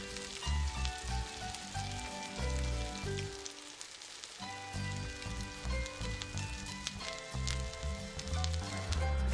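Pork sizzles and fries in a pan for a Vietnamese dumpling filling, a dense, crackling hiss layered over music, dipping briefly before carrying on steadily.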